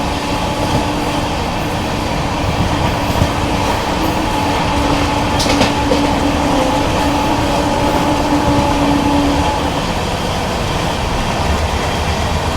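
A Delhi–Patna AC special passenger train rumbles along the rails continuously, with steady rolling noise, faint clatter, and a brief squeal partway through.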